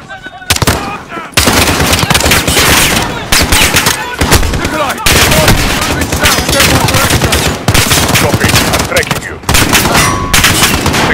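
Loud, rapid bursts of gunfire in Call of Duty: Modern Warfare rattle almost continuously, with brief pauses between volleys and voices shouting underneath.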